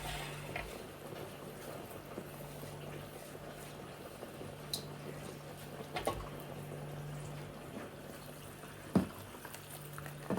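Ora soup with coral leaf simmers in a pot, giving a soft, steady bubbling hiss with occasional faint pops and drips, quiet and continuous.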